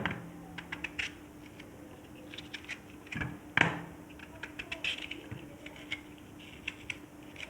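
Raw unripe mango is sliced with a knife for instant pickle, giving quiet, irregular clicks and taps of the blade on a board with soft crunchy cuts, close and faint.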